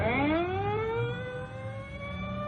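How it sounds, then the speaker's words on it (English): An ambulance siren wails on a city block, its rising tone sweeping steadily downward in pitch as it pulls away into the distance under low traffic rumble, with no talk. "The ambulance is pulling away."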